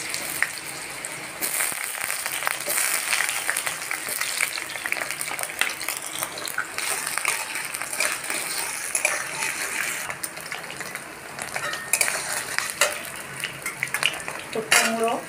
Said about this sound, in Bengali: গরম হয়ে গেছে, তো আমি সবজিগুলো ভেজে নেব